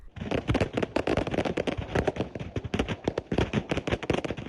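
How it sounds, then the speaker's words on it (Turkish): A truck loaded with fireworks burns on the Gaziantep–Nizip highway as the cargo goes off in dense, rapid bursts of loud cracks and pops, firing almost without pause from start to end. "Gaziantep'te havai fişek yüklü tır alev alınca tırda bulunan havai fişekler patladı."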